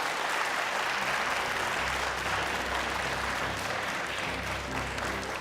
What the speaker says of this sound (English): Ladies and gentlemen, a round of applause for our running mates.